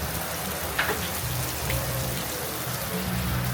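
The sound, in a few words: rain falling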